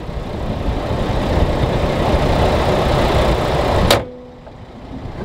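A 2007 Jeep Liberty Limited with the 3.7L engine idling, a steady close rumble that cuts off abruptly as the engine is shut down, leaving a faint hum.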